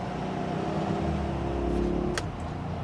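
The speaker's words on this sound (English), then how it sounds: "so I'll give it a little throttle" A GMC Denali truck engine, hitched to a trailer with its brakes clamped, drones at a steady low idle that swells slightly under light throttle, a constant mid-level rumble with a brief click near the end.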